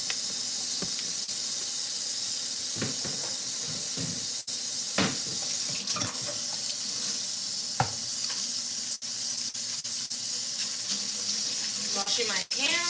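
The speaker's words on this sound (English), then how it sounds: "Washing my hands." Tap water runs steadily into a sink while hands are washed in a home kitchen, a continuous hiss broken by brief clinks and splashes, with talking faintly underneath.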